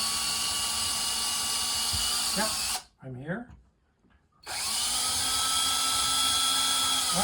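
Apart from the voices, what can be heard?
power drill drilling through wall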